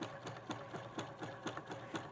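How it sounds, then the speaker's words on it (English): A sewing machine stitches fabric in a fast, steady mechanical rhythm, with evenly spaced clattering pulses from the needle running continuously and close by, with no voices. "the sewing machine brings them together as I sew"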